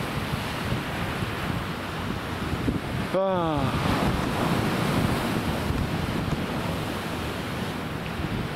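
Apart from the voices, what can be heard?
sea waves on the shore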